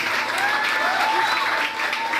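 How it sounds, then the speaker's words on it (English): A seminar audience at a girls' senior grammar school applauds the principal: brief, dense, continuous clapping from a crowd, steady throughout. "A round of applause for your principal."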